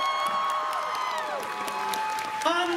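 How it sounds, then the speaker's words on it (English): A crowd at a cosplay masquerade at MCM Birmingham Comic Con applauds and cheers the entrants, steady clapping spread across a large hall beneath music and tonal effects. "Let's give them a big, huge round of applause."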